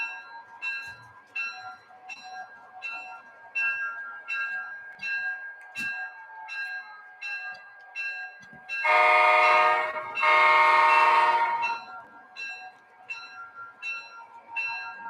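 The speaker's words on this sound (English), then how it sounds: "We're just turning the train around." A model train turning around clicks along in a steady rhythm of wheel ticks, broken by two loud bursts of horn or whistle midway, then ticking on.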